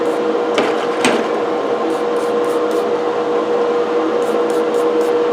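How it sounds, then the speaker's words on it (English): A wire brush scrubs the metal burrs of an old coffee grinder indoors, giving a steady, close, harsh rasping texture with a few sharper scrapes and clicks throughout. "as you can see, the burrs coming clean with the wire brush"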